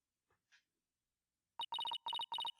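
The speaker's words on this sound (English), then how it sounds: "My phone." A telephone rings in the Ace Attorney Dual Destinies video game, a loud electronic trill in rapid repeated bursts after a moment of near silence with a couple of faint soft blips.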